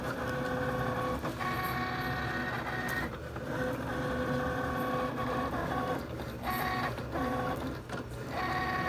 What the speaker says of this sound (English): My cutter, it moves a little slow. It's an older cutter.